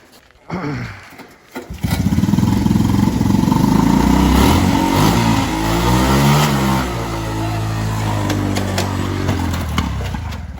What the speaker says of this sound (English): I like the little burnout wheelies that it does.